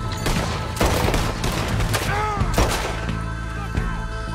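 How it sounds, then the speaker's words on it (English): Rapid gunfire pouring into a barrel in Red Dead Redemption 2, dense loud overlapping shots with ringing metallic tones, continuous and close for several seconds. "You just wasted like 20 bullets in a barrel."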